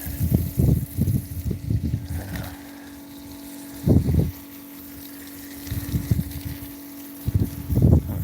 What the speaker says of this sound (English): Is the wind noise pretty bad, or can you just hear okay?